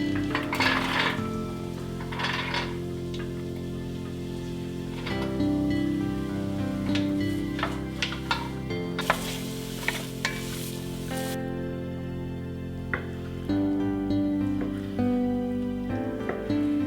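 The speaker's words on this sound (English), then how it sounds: "I'm going to saute some garlic and then I'm going to add in all of my veggies" Garlic, onions, celery and carrots sauté in butter in a Dutch oven, giving a steady close sizzle broken by repeated stirring and scraping of the pot.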